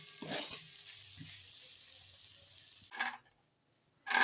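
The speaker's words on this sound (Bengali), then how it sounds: "সবজিগুলো ভাজা ভাজা হয়ে গেছে" Vegetables frying in a pan with salt and a little sugar while flattened rice is added, giving soft intermittent sizzles and stirring scrapes, quiet with pauses and a louder burst at the end.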